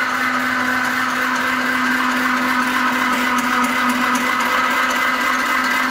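A homemade extruder for making animal feed runs continuously, its electric motor giving a loud, steady mechanical drone with a strong hum and grinding hiss that stays constant throughout, with no talk.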